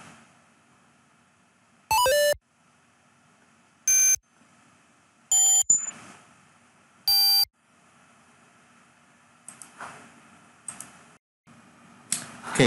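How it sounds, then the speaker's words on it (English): An ESP32-driven buzzer sounds four short, loud electronic beeps, each at a different pitch, spaced about two seconds apart, followed by faint clicks and light handling noise. "Each button will give us a different frequency in the buzzer."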